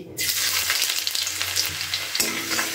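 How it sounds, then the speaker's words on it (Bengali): Chopped garlic and ginger hit hot oil in a wok, bursting into a loud, steady close-up sizzle that crackles continuously with a brief stir near the end and no talking. "কড়াইতে তেলটা গরম হয়ে গেছে। প্রথমে আমি রসুন আর আদার কুচোটা দিয়ে দিচ্ছি"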